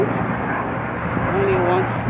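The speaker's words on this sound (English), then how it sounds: "Helicopter. How many? Two?" A low aircraft drone hums steadily overhead during a walk in a park, a distant continuous rumble with a faint tonal whine, as a person talks over it.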